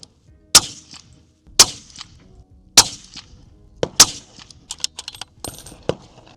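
A Sig Cross .308 rifle firing Nosler ammunition: four sharp, loud gunshots spaced about a second apart, each with a short decaying echo, followed by fainter clicks and rattles.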